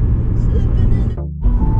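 A heavy road vehicle rumbles past on a highway in regional Australia, loud and close with a deep continuous roar and a brief dip as it goes by, heard from inside a moving vehicle.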